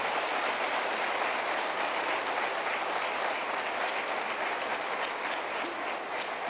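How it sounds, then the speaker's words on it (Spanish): A church congregation applauds for the Lord at a Spanish-language service, steady dense clapping filling the room from start to finish with no talk over it. "Dale un aplauso al Señor."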